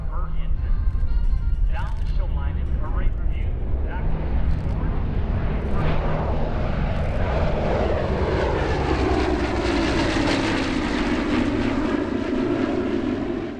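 PB4Y Privateer warbird, the naval version of the B-24 Liberator, passing at an airshow: a loud, steady roar from its piston engines, with the pitch sweeping as the aircraft goes by.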